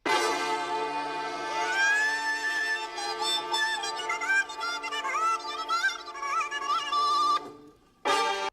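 A song sample transposed up 12 semitones plays as a continuous, bright, high-pitched melodic line with warbling tones, breaking briefly near the end before a short final burst, with no voices.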